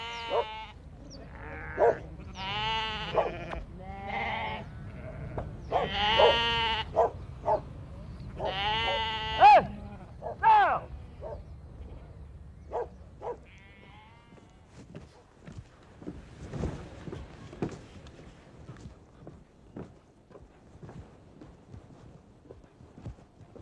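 Sheep bleat repeatedly at close range on a salt meadow pasture, several overlapping wavering calls, then fading to quieter shuffling and faint distant bleats.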